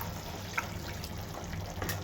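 Water poured into a pan of sizzling masala made with blended tomato, a steady pouring splash over hissing frying for about two seconds, close by.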